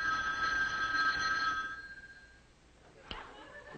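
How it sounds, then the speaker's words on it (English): A telephone bell rings in a quick, bright trill, then stops and fades into quiet room tone, followed by a faint tap. "But I believe this is the telephone"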